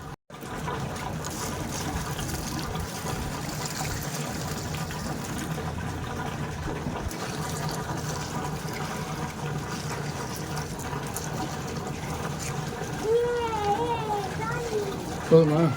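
Water running steadily without pause across a flooded rooftop terrace, a continuous close trickling wash lasting throughout, with people talking over it.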